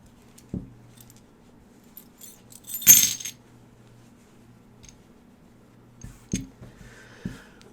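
Metal keys jangling during a tarot charm reading in a quiet room: a few short clinking bursts, one louder rattle in the middle and lighter jingles later, over a faint low hum.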